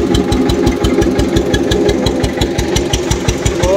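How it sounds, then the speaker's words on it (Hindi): An Eicher tractor engine running slowly, a steady close low thump repeating at an even, rapid beat with a rough mechanical clatter on top, continuous and loud throughout with no talking. "और बिल्कुल स्लो में चल रहा ट्रैक्टर"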